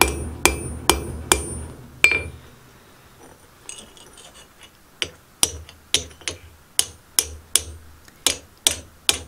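Sharp metallic hammer blows on steel spring Damascus at a forge, a quick series of about five, a pause, then a longer steady run of ringing strikes, close and loud.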